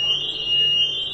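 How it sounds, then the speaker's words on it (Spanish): An alarm sounds with a continuous high-pitched electronic tone that holds steady throughout and ends in a short, sharper beep. "Está sonando la alarma."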